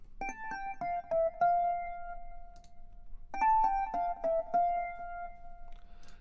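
Velvet electric piano plugin, Mark II model, playing a short melodic phrase of bright keys twice, each run of several notes sustaining into a held tone, clear and close with no other sounds.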